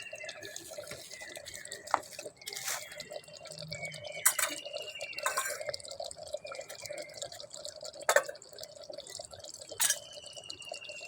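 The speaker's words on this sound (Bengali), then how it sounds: "নামানো পরেও মানে টকবক করছে।" Goat meat curry in a clay pot, just taken off the heat, still bubbles with scattered soft pops and drip-like plinks, faint and irregular, against a quiet room.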